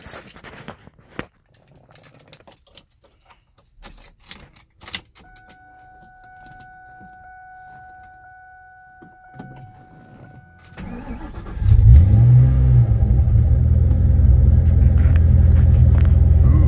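A 2004 Ford Mustang Mach 1 cold start: a few clicks and key jingles, a whirring starter crank, then the V8 catches and settles into a loud, steady, deep rumbling idle up close.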